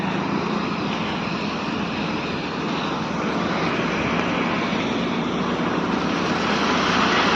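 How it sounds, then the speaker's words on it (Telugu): Vehicles rushing past fast on a rain-soaked road, a steady loud roaring hiss of tyres and engines that swells slightly toward the end, with no gaps between passes. "వెహికల్ స్పీడ్గా పోతున్నాయి"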